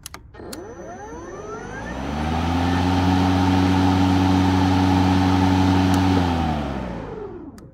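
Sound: EGO 56V cordless lawn mower motor running in normal mode

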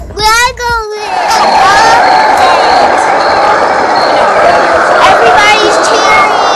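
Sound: crowd cheering at Legoland

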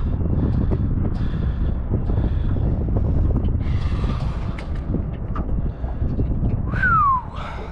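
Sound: wind blowing on a river boat

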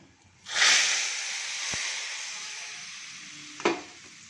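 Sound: hot spice tempering poured into dish, sizzling

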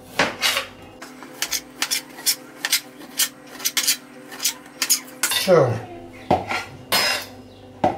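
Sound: stir-frying beef strips in pan

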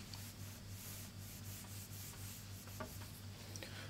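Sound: erasing writing on a board

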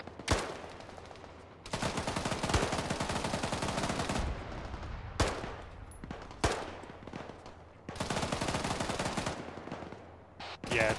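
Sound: gunfire in a military video game

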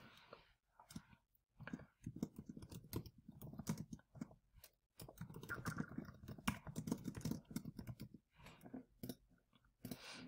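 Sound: typing text on a computer keyboard

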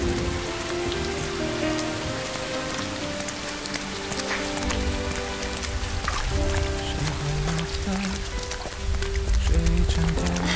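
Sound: rain falling

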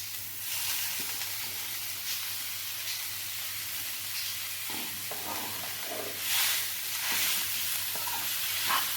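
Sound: grated potatoes added to the pan and stirred

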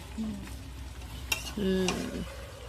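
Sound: chicken being stir-fried (kosha) in a pan

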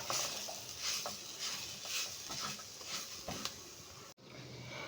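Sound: stirring beetroot, carrot, peas, potato and spice mixture in pan

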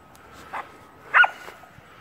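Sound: dog barking

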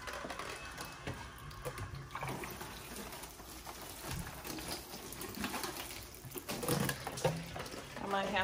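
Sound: water poured onto indoor seedlings

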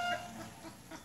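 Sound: pet chickens clucking

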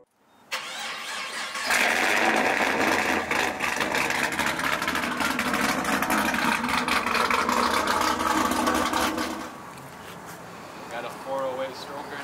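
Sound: Dodge Charger engine with stroker, stage 3 cam, bolt-ons

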